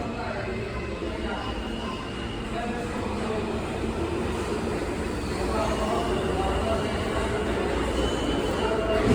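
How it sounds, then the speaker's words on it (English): An R train on the New York subway makes a continuous low rumble and roar that swells slightly toward the end, with voices faintly mixed into the din. "about to get on this R train to 59th Street"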